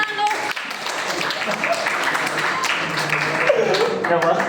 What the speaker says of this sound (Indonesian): Tepuk tangan deh.